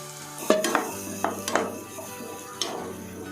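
Goat intestine (boti) fry sizzles in a pan with onion and tomato while a spoon stirs it, giving several sharp metallic clinks and scrapes over a steady close hiss.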